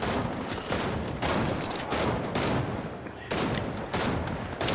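Rapid bursts of gunfire in the battle royale video game Fortnite, loud and close, firing in repeated volleys separated by short pauses.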